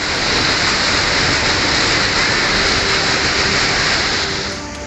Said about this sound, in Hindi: यहाँ नाले भयंकर गर्जना के साथ उफान मार रहे हैं।